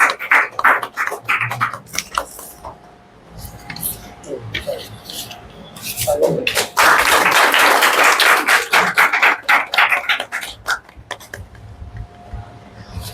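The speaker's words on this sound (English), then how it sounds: "a huge round of applause for Nimita" Applause from an audience at a student recognition award ceremony, a dense wash of clapping swelling loud in the middle and tapering off, with talk and murmur around it.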